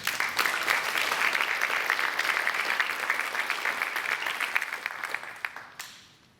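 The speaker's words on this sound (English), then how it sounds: "Please give these members a round of applause." Audience applause fills an FFA banquet hall, a steady dense wash of many hands clapping for several seconds before fading out near the end.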